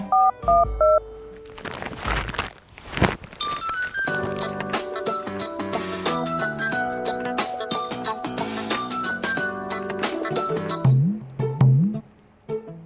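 A series of phone keypad tones beeps in quick succession, each a short steady dual tone, followed by a brief ringing tone near the end.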